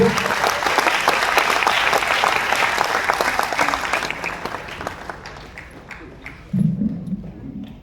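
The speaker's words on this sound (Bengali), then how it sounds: "এনাদের জন্য একটু জোরে হাততালি চাইবো" Loud, sustained applause from a crowd for a scout team at a social organisation's fifth anniversary celebration. The clapping thins out after a few seconds, and a brief voice is heard near the end.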